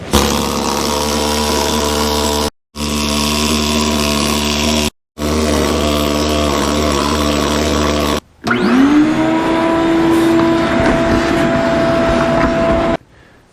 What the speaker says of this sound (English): then I'm gonna vacuum it out.